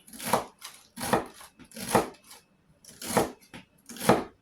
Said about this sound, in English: I'm going to go ahead on and get this chopped up